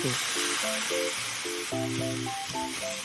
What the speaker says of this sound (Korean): 간장 소스를 넣고 계속 볶습니다